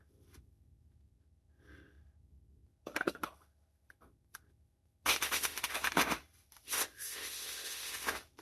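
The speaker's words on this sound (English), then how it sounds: "I'm gonna give this like one more good shuffle." A deck of tarot cards being shuffled by hand: brief riffles and taps early on, then a longer, louder burst of rapid crisp shuffling near the end, with no talk.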